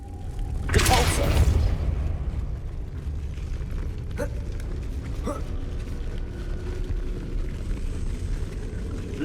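A Depulso force spell cast in the Hogwarts Legacy video game, a loud whooshing burst near the start that fades into a rumbling bed, with a couple of faint later clicks.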